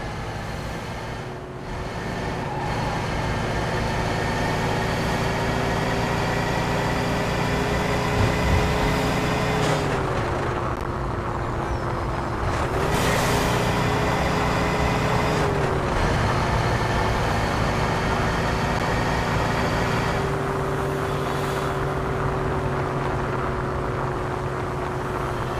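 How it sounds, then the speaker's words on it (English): A truck engine in the video game Mafia II drones steadily throughout, its pitch shifting as it shifts gears and speeds up, loud and close with no voices. "Then we bring the truck back to Eddie and get our cut of the take"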